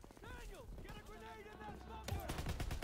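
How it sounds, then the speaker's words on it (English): Rapid gunfire in Call of Duty WWII, a burst of loud repeated shots breaking out in the final second after a stretch where someone talks excitedly over faint battle noise. "Oh my goodness, I got shot again."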